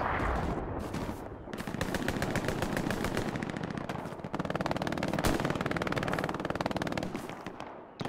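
Sustained covering fire in the Hell Let Loose warfare game at Sainte-Mère-Église: rapid automatic gunfire rattles loud and close in long, dense bursts with only a short gap.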